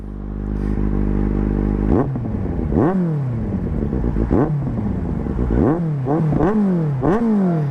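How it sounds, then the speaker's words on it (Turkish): A motorcycle with a newly fitted aftermarket exhaust idles with a deep throb, then is revved in a series of sharp, loud blips, faster toward the end. "Bu egzozun sesi bu."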